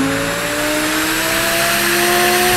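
Lamborghini engine revving loudly as the car drifts in GTA 5, a steady high engine whine with rising pitch and possible tire squeal, continuous and close for a few seconds.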